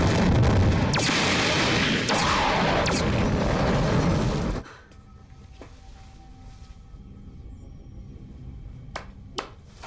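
Starship cannons fire in a sci-fi TV show, a loud burst of booming blasts with sharp repeated cracks for several seconds, then cutting to a quiet scene with faint clicks and pings.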